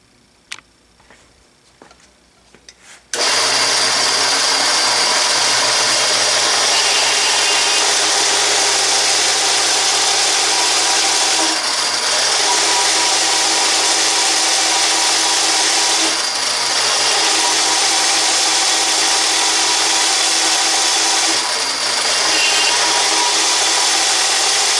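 A Duro drill press running at a slow 250 RPM drives a large holesaw through aluminum, starting abruptly after a few quiet seconds into a loud, steady motor hum and grinding cutting noise that holds for over twenty seconds with slight periodic dips.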